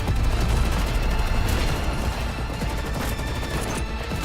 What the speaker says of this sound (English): fired several shots to blast the hole.